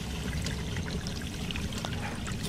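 Water trickles and drips steadily in a basement in the video game Hello Neighbor, a continuous wet, hissing patter at an even level throughout, with no voices.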